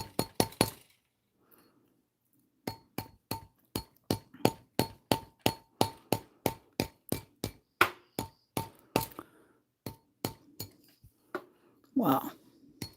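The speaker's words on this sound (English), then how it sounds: "But I'm going to use the cloth mallet." Sharp, evenly spaced metallic taps from a cloth mallet striking silver wire wrapped around lapis gemstones, about two dozen close blows in a steady rhythm after a short pause, ending in a brief muffled rustle.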